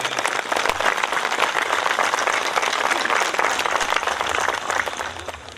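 Audience clapping steadily at a large religious gathering in Nangal, dense continuous applause from many hands held at an even level throughout, with no speech over it.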